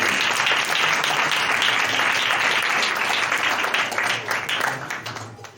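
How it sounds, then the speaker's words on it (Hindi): Loud, sustained applause from a church congregation honoring a pastor, a dense wash of many hands clapping steadily throughout before tapering slightly near the end. "आइए जोरदार तालियां बजाएंगे।"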